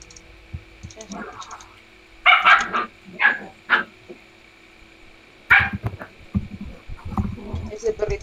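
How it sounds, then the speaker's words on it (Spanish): Small dog barking in a thin, toy-like way during a League of Legends custom match, a few short yaps in bursts amid game sounds and clicks. "Ese perrito suena muy de juguete."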